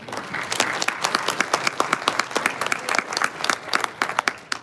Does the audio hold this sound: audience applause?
yes